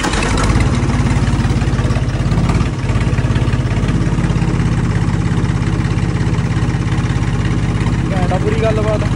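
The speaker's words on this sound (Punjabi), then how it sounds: "ਆਪਾਂ ਇਹਨੂੰ ਸਟਾਰਟ ਸੈਲਫ ਮਾਰ ਦਈਏ" A Ford 3600 tractor engine runs at a steady idle after being started with the self-starter, a loud even diesel chug throughout with a slight dip near three seconds, and a voice speaks briefly over it.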